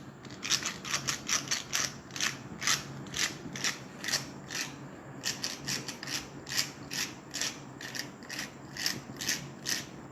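A hand pepper mill grinds crushed black pepper into a creamy homemade sauce, a rapid run of crisp ratcheting clicks in uneven bursts with a brief pause midway, close and fairly quiet.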